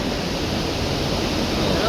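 Broad steady rushing of a river swollen after heavy overnight rain on the Gaurikund to Badrinath route in Uttarakhand, a loud continuous roar with no break for the whole stretch.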